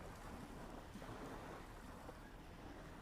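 Waves of the English Channel lap at the shore in steady outdoor wash, with wind across the microphone and a constant broadband surge that never drops out.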